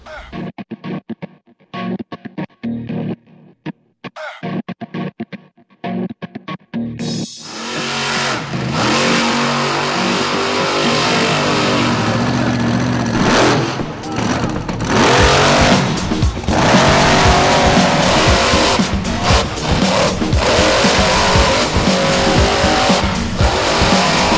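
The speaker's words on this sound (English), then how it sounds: "let's check out some footage of Travis Pastrana taking out a whole bunch of rental cars" Monster truck driven by Travis Pastrana crushing a row of rental cars, with a roaring, revving engine that builds and stays loud after sparse opening noises, plus crunches and tire squeals along the way.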